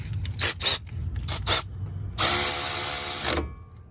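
A ratchet tightening a front brake caliper bolt on a 2007 Mitsubishi Endeavor, heard as short bursts of rapid clicking followed by one longer steady ratcheting run, close and alone.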